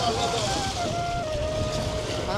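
Strong wind buffets the microphone on a riverbank at a ghat near a char fish and vegetable market, a steady loud rush filling the clip, with a faint tonal whine running through it.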